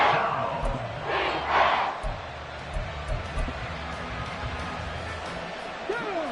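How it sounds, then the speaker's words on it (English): Football stadium crowd roars in a dense, sustained swell, with rising cheers and a few shouts standing out from the steady noise wash. "This crowd turning up the decibel level."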